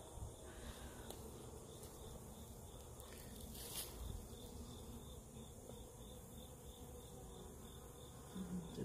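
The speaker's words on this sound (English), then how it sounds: "The bees are very active building." Honey bees hum continuously around an open hive frame during treatment for hive beetles, a dense close buzzing drone with a few sharper passes of individual bees near the microphone, and no talking.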